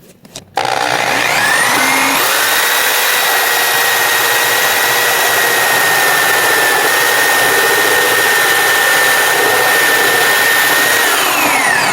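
A power drill runs steadily for about eleven seconds while boring into a shower stall floor, a loud continuous whine with a high pitched tone that holds level before stopping.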